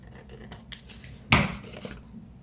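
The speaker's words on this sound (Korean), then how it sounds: "대각선으로 잘라주는데요. 좀 많이 비스듬하게 45도보다 더 많이 비스듬하게 잘라주세요." Scissors snip diagonally through paper while a Christmas pop-up card is made, a few light clicks and slices, then one sharper, louder cut near the middle of a quiet indoor scene.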